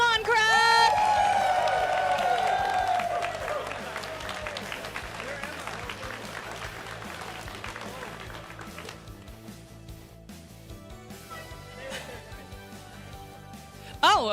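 A crowd at a Dragon Duelists gaming tournament cheers and applauds, loud whoops at the start settling into sustained clapping, with some voices mixed in and a burst of noise at the very end.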